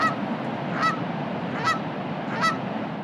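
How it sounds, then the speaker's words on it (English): Canada geese honk four times at a steady spacing as they fly over the National Capital Region, the calls fairly distant over constant background noise. "Iconic flying Vs of Canada geese have been spotted over the National Capital Region"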